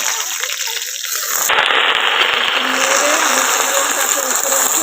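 Taro leaves dropped into a pan of garlic frying until brown, setting off a sudden loud, steady hiss of frying that starts partway through and carries on close and unbroken to the end.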